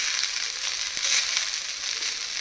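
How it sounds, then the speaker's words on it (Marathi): Vegetables and rice stir-fry in a pan for a Goan vegetable pulao, giving a steady, loud sizzle with a crackling, scraping texture that runs the whole time with no talk. "सगळी मिळून स्टर फ्राय करून घेऊया."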